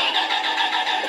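A Roblox video game car engine turns over and settles into a steady, bright-toned hum, continuous and fairly loud throughout the short clip.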